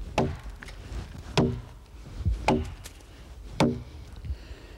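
An axe strikes a log again and again during hand hewing, breaking out chips. Four crisp, woody chops land at an uneven pace, close by, with quieter knocks between them.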